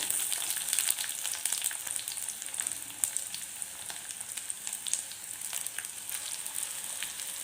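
Onions frying in oil in a pan with a pinch of fenugreek seeds, a steady close, loud sizzle and crackle with scattered pops throughout, heard alone with no talking.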